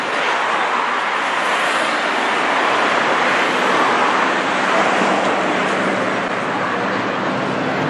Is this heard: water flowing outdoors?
yes